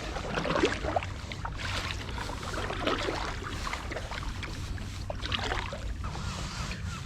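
Kayak paddled across the calm Firth of Forth near Cramond Island, with a steady wash of water and wind noise throughout, and no clear voices.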